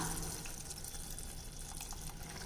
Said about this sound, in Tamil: காய் வேகிறதுக்காக கொஞ்சம் தண்ணி விட்டுக்கலாம்.